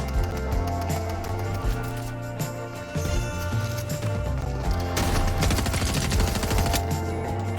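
Pump shotgun blasts ring out in a video game, heavy booming shots layered over dense, continuous game music and effects, loud and busy throughout.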